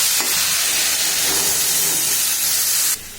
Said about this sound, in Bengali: এবারটা আর অল্প একটু জল দিতে হবে।